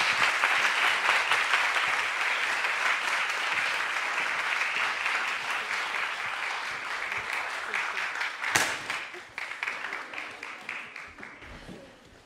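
An audience applauds to welcome author Edwidge Danticat at a talk. The loud, sustained clapping slowly thins out and is broken near the end by a sharp microphone bump, with faint voices underneath.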